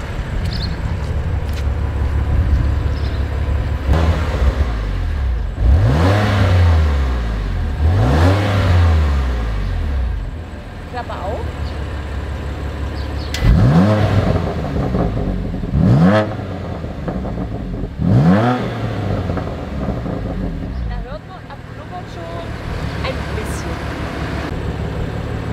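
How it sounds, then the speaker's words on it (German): A BMW M2 Competition with a custom exhaust and its flap closed, engine revved repeatedly from idle in a series of loud, rising and falling blips with a deep rumble between them. "jetzt hören wir uns den einmal an mit Klappe zu und einmal mit Klappe auf."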